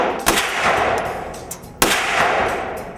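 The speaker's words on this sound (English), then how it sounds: "So we test obviously each pistol with an entire pistol magazine" Beretta pistols are test-fired at the factory, each emptying a full magazine. A few sharp, loud shots crack out with some metallic clatter around them.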